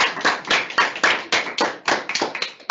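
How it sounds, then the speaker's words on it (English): Applause at a school assembly: a handful of hands clapping close by in an uneven, sparse rhythm for a few seconds, with no talk. "thanks for the applause"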